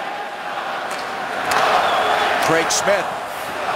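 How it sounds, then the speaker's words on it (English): A hockey arena crowd in Calgary on Halloween night during a Nashville Predators–Calgary Flames game gives a sustained, swelling roar that rises midway, under a play-by-play commentator's voice, with sharp stick and puck clacks and a whistle-like call. "the crowd comes alive on Halloween night in Calgary"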